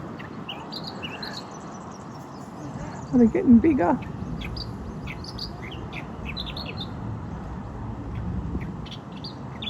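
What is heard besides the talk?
birds chirping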